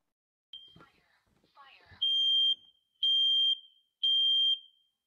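A smoke or fire alarm sounds three loud, piercing electronic beeps in a steady rhythm, about a second apart, after a stretch of speech.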